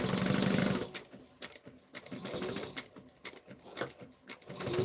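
A sewing machine back stitches over a bag's key fob during a Willa bag sew-along, a short burst of fast stitching followed by choppy, irregular mechanical clicks and thumps as the fabric is worked back and forth.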